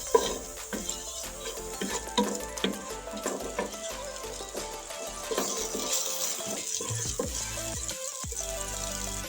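Chopped onion frying in hot oil until light golden gives a continuous close sizzle, broken by repeated scrapes and clinks of a spoon stirring in the pan, with no talk.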